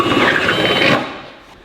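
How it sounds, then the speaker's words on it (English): A drill with a 25/64 bit bores out rivet holes in a carbon fiber fender on a sixth-generation Ford Bronco. It gives a loud, steady whirring grind for about a second, then stops and fades away. "So now when we're drilling these holes,"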